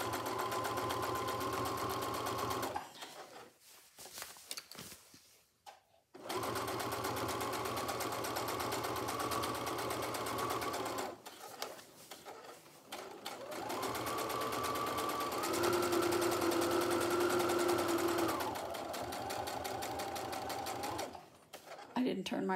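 A sewing machine top-stitching a large zippered project bag, running in bursts of rapid mechanical whirring with short pauses between runs, close and clear.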